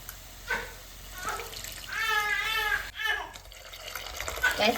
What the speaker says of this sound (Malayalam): ഇതിലേക്കുള്ള വെളിച്ച വെള്ളം കൂടെ നമ്മൾ ഒഴിച്ചു കൊടുക്കണം